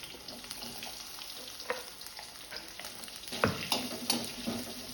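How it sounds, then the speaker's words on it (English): Onion and chili sizzle in hot oil with cumin in a kadai, a soft, continuous frying crackle with occasional stirring clatters and louder pops near the end. "Once cumin fried, then add onion and chili."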